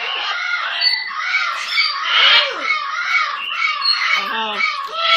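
A pet bird squawks continuously and loudly at close range, harsh raspy calls running the whole time with a few lower honking notes near the end.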